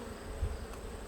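Honey bees buzzing around a seven-week-old nuc hive being readied for winter, a low, steady hum that is faint and distant, with no talking.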